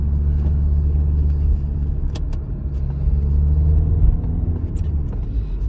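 A car engine hums and rumbles inside a moving vehicle during driving exam practice, shifting into third gear, a steady loud low drone with road noise and faint clicks throughout.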